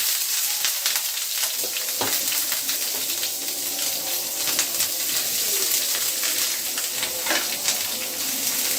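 Chopped onions sizzle steadily in a pan, a continuous close hiss with occasional crackles and light scraping, cooked as the base for a loitta dried-fish roast.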